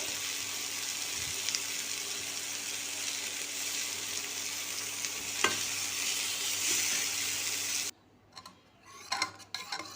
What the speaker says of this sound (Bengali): ডালটা একটু এভাবে হাতা দিয়ে ঘেটে নিলাম যাতে ডালগুলো মজে যায়